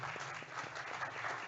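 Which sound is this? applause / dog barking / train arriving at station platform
applause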